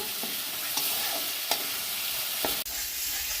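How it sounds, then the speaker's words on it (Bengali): Spice masala fries in a pan for a pangas fish curry, giving a loud, constant sizzle close by. A handful of sharp spatula scrapes stand out against it, and no voices are heard. "মশলা আর একটু কষাতে হবে।"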